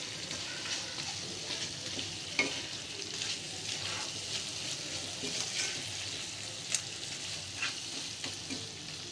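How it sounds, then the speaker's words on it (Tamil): Pepper chicken with coriander fries in a pan, a soft steady sizzle broken by a few sharp clinks and scrapes of stirring, faint and close with no talking. "சேர்த்துட்டு இது நல்லா மிக்ஸ் பண்ணி விட்டுருங்க. இன்னும் கொஞ்சம் ட்ரை ஆனதுக்கப்புறமா நம்ம ஆஃப் பண்ணோம்னா சூப்பராக பெப்பர் சிக்கன் ரெடி ஆயிரும்."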